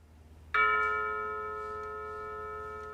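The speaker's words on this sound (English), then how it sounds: "the sound of the clock chiming in the dining hall as the bell of mindfulness" A single dining hall clock chime rings out like a bell, sustained and slowly fading, in an otherwise quiet room.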